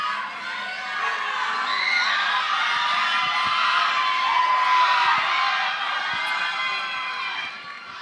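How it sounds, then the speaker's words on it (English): Audience cheering and applause for young contestants at a 2016 city pageant, high-pitched shouts, whoops and clapping swelling into a loud, sustained crowd roar before easing slightly. "Let's give all of our young ladies a round of applause."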